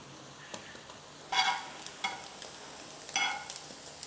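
A bread snack fries in oil in a pan over low heat, giving a faint steady sizzle with two louder crackling bursts and light stirring scrapes.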